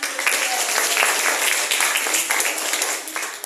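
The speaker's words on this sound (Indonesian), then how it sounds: "Tepuk tangan." A room of students breaks into dense, lively applause, many hands clapping at once in a steady close burst that tapers slightly at the end.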